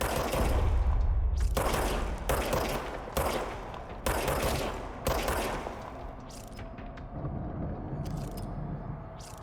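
Service weapon firing in the action game Control, a series of loud, close bursts in quick succession, each with a booming low rumble, trailing off into sparser shots and echoing ambience.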